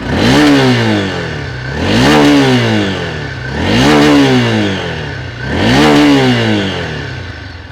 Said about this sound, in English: That is one throaty exhaust, and you can certainly hear that.